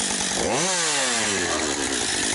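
Chainsaw cutting firewood, the engine pitch sweeping up sharply then sagging steadily as the chain bites into the wood, loud and close without pause.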